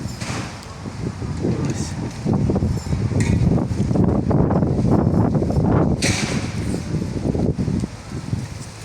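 Strong gusting wind ahead of a thunderstorm in Chernivtsi roars against the microphone in a dense, steady rush, swelling and easing over several seconds with no talk.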